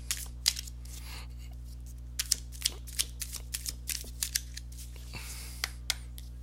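Tarot cards being shuffled and handled at close range, a string of soft, crisp riffles, flicks and taps over a steady low electrical hum, with no talking.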